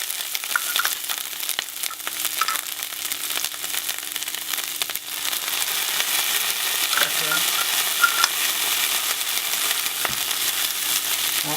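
Oil sizzles loudly in a pot with garlic and pepper for a Jamaican vegetarian curry stew. The frying hiss is dense and constant, with no voices.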